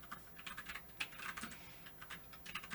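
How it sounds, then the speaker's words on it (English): Fingers type on a computer keyboard in quick, uneven bursts of soft clicking keystrokes, faint and close, with no talking. "Yo, this keyboard's messing me up."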